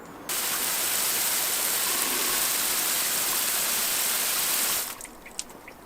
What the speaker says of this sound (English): all that's left to do is to give it a darned good watering